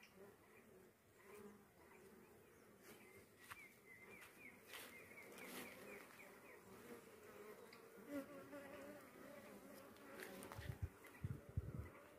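Honey bees swarm and buzz steadily around the hives of a newly set-up apiary, a dense continuous hum close by, with a few thumps and handling knocks near the end.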